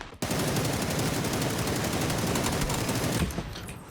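Rapid, loud gunfire in the online battle game PUBG, a dense continuous burst lasting several seconds close up before cutting off, with no talk over it.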